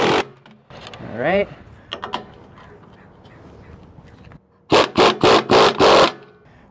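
An impact gun drives bolts through the brackets of radius rods on a Ford F53 chassis, firing in five loud rapid hammering bursts near the end after a short spoken remark and quieter workshop clatter.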